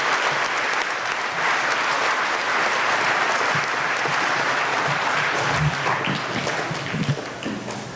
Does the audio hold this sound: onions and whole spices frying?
no